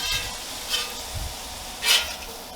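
Cheesesteak filling scooped with a spatula on an EVO flat top grill, a faint steady sizzle with a few soft scraping swishes.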